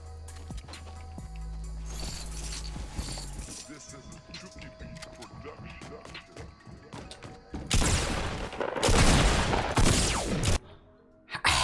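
Gunfire in Fortnite, including pump shotgun shots, comes in bursts of sharp cracks, with a heavy louder volley near the end and a voice talking underneath.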